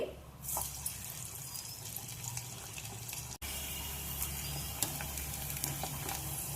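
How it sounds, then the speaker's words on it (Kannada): Papad (sandige) frying in hot oil, a continuous close sizzle and bubbling hiss with occasional crackles, steady throughout with a brief dropout midway. "ಈಗ ನಾ ಒಂದೆರಡು ಫ್ರೈ ಮಾಡಿ ತೋರಿಸ್ತೇನೆ ನಿಮಗೆ"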